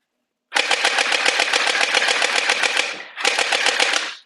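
An SMRCKOOS MP5K gel ball blaster fires on full auto in two loud, rapid bursts, a long one of about two and a half seconds and a shorter one after a brief pause, each a fast mechanical rattle of shots.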